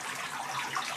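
Water runs in a steady, continuous flow through a flow-through tank holding newly hatched fish fry, a dense broadband rush that stays even and close throughout with no break.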